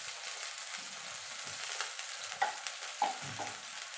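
Ginger and green chilli sautéing in a pan with a splash of water, a soft steady sizzle with spatula scrapes and a couple of sharper clinks, close and without talk.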